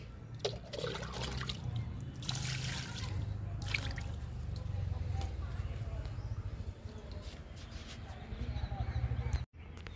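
Liquid fertiliser trickles and splashes from a container onto a flowering garden plant's soil, continuous and close, with a person talking over it.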